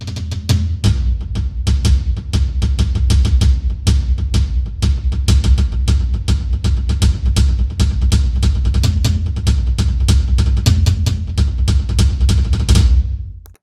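Fast, energetic music of the kind used to drive a chase scene, with a driving pulse of regular beats and a full, loud sound that carries steadily throughout before cutting off abruptly at the end.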